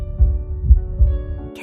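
Three deep, muffled heartbeat thumps pound out in a slow, steady rhythm under a low sustained hum, each beat a heavy double throb, before another sound breaks in briefly at the very end.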